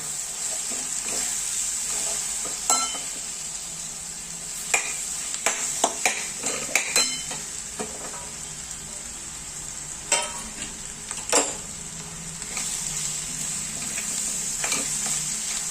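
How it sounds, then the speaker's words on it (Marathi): Boiled potatoes tipped into hot frying spices for a Maharashtrian puri bhaji, stirred with a loud steady sizzle and intermittent sharp scraping and clatter of a spoon against the pan, close up with no talk. "आता लगेच टाकून घ्यायचं आहे मसाले जळू नये म्हणून आपले उकडून घेतलेले बटाटे"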